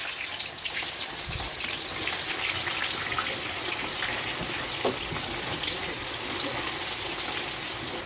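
Chopped onions go into hot oil already sizzling with whole garam masala, cumin seeds and dried chillies, giving a steady, dense hiss of frying with scattered small pops and crackles throughout.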